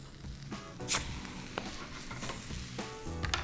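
A Greek-style gyros quesadilla (skepasti) sizzles in a hot pan as it is flipped over, a steady frying hiss broken by a sharp scrape and a few clunks of the spatula and pan, close and fairly loud with no talking.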